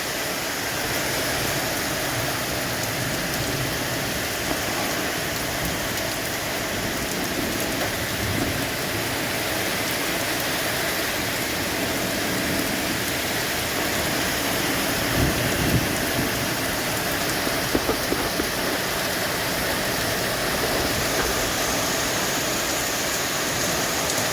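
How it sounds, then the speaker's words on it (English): A dense, steady downpour of heavy rain with hail hisses without pause, roaring evenly on surfaces, with faint low rumbles of distant thunder underneath. "But it is raining cats and dogs right now."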